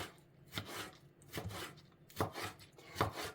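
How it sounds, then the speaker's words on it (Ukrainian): A knife slicing herring into thin strips on a board for a beet salad, four distinct close chopping knocks spaced evenly, each a sharp thud. "Оселедець нарізаємо теж соломкою."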